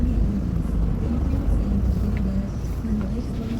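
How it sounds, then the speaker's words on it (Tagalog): A manual car's engine hums in a steady low rumble as it gathers speed gently during a basic driving lesson, loud and close inside the cabin. "para ma-feel mo yung ano, yung makina na nag-accelerate"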